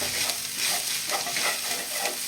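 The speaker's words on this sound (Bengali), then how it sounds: "এবার আমি ধনে পাতা কুচি দিয়ে ভালো করে নাড়াচাড়া করে" A pan of raw egg mash with chopped coriander leaves is stirred over the heat, with a steady soft sizzle and repeated scraping strokes of the spoon, close up and with no voices.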